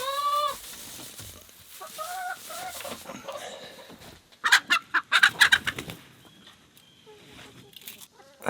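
Chickens at a coop, several clucks and squawks heard close, then a burst of wing flapping and scuffling in the middle, with quieter clucking before and after.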